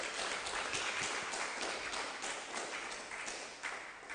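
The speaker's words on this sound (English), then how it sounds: "I think the speaker deserves another round of applause." An audience at a national cannabis conference applauds the speaker, a bright, steady wash of many hands clapping at moderate distance without any voices over it.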